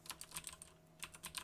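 Computer keyboard typing while a folder path is entered in Windows Explorer: quick, close keystrokes in two bursts separated by a brief pause, with no voices.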